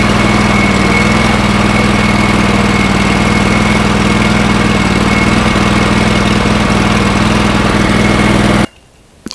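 A forklift engine idles nearby with a loud, steady, low rumbling drone. It cuts out abruptly just before the end, leaving near silence. No speech.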